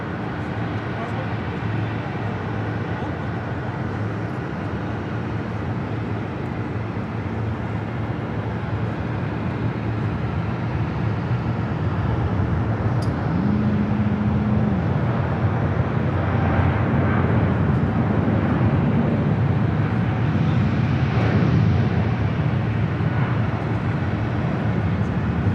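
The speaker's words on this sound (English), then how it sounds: "Korean Air Flight 12 now rolling on 25 left." A Korean Air airliner, Flight 12 bound for Seoul, rolls for takeoff on runway 25 left at Los Angeles International Airport, a broad distant jet roar that swells and grows louder through the second half, with a brief tonal whine midway.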